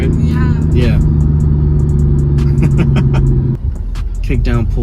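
A Mercedes E55 AMG with cooling mods on its supercharger pulls hard under kickdown, a loud, steady engine roar with a deep droning rumble. People talk over it throughout.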